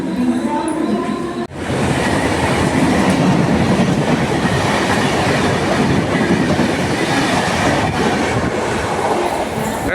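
A moving passenger train clatters along the rails on a journey from Mumbai, a loud, continuous rumbling clickety-clack heard from on board, steady throughout after a brief dip near the start.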